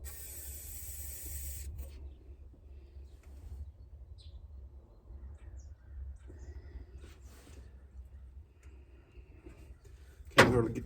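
A short hiss of penetrating oil sprayed from an aerosol can at the start, aimed down toward the spark plugs of an old Ford engine in a garage, followed by faint handling clatter and a sharp knock near the end.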